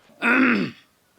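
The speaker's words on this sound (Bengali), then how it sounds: "কাশি না দিয়ে পারি না" One short, gruff throat-clearing cough from a man, close and fairly loud, lasting about half a second before silence.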